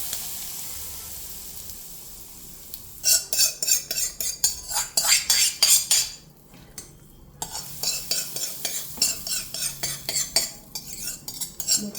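A hot tempering of mustard seeds and asafoetida is poured into mango pickle and stirred, bringing a burst of sizzling and a rapid, rhythmic clatter of a spoon against the vessel, a short pause, then more brisk stirring, loud and close.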